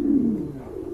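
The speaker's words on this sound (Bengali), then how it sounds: "এই যে দেখেন ডাকাডাকি করতেছে, খুবই অ্যাক্টিভ কবুতর এগুলা" Large pigeons, a pair of big-sized long-legged birds of Indonesian colour, cooing steadily in low, throaty, continuous calls, close and fairly loud throughout.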